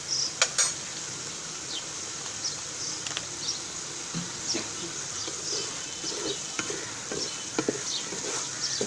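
Spaghetti sauce with chili sauce, soy sauce and spices sizzles softly in a pan for a spicy achari spaghetti, with steady low frying hiss and occasional scrape and clink of stirring throughout.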